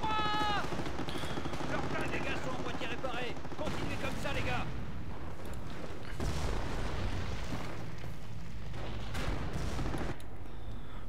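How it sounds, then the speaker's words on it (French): A tank explodes amid dense World War II battle noise in Company of Heroes, with booms, gunfire and rumbling blasts continuing throughout while someone talks over the action. "vous pétez le char et le char explose"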